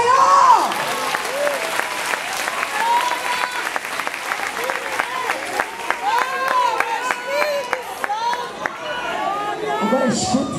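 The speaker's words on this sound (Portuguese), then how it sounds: "Aplauda o Senhor!" A church congregation applauds steadily through a worship service, the dense clapping sustained from start to finish while voices ring out over it.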